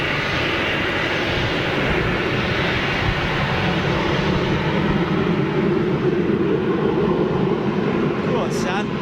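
A departing airliner at Manchester Airport roars loudly and steadily throughout, a continuous broadband jet rumble close by, with voices talking over it.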